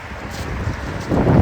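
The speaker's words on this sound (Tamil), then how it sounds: "காற்று வந்து இருபத்தி எட்டு கிலோமீட்டர் பர் ஹவர் ஸ்பீடில் வீசுறதுனால காற்று அதிகமாக இருக்கிறதுனால" Outdoor wind blowing at about 28 km/h in a Toronto suburb, a steady broadband rush buffeting the microphone and growing louder and rougher toward the end, with no voices.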